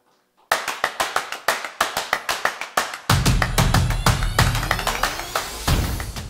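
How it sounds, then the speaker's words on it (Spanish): A church congregation claps in unison at a service, starting as steady separate beats and swelling into dense, loud rhythmic applause with a deep thumping undertone, with no voices over it. "Dale un aplauso al Señor y dile gracias, porque Él es bueno."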